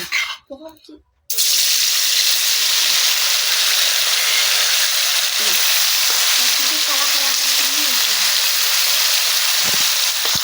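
Salted, turmeric-coated paneer cubes go into hot oil in a kadai, bursting into a loud, continuous close sizzle after a short stretch of clatter and speech.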